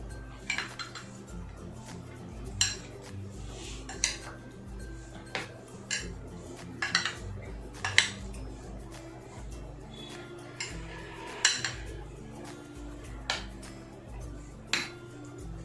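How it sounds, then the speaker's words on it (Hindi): A spoon scrapes and clinks against a bowl in irregular strokes, mixing a yogurt-based tinda (round gourd) dish, steady mixing with sharp metallic taps every second or so, fairly close and quiet. "इसको अच्छे से मिक्स करना है।"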